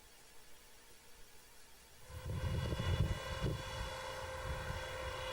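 A quiet hum swells after two seconds into a loud, throbbing helicopter rotor roar that holds steady as the craft lifts off in an inverted takeoff.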